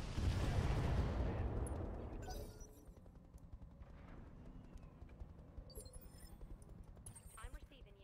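Heavy weapons from battle mechs in the RogueTech game fire in a loud, rumbling salvo that fades over about two seconds, followed by quieter scattered impacts and crackles.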